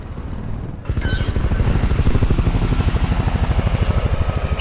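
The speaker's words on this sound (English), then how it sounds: "Helicopter? Where is it?" A helicopter in the video game Resident Evil 6 comes in loud and close, its rotor beating in a fast, steady chop under a whining engine, after a brief quieter lead-in.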